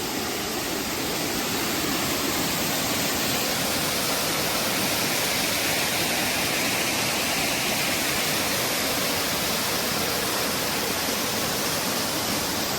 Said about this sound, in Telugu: వాటర్ ఫ్రేమ్స్ అయితే వస్తానే ఉన్నాయండి, వాటర్ స్ట్రీమ్స్ వస్తానే ఉన్నాయి.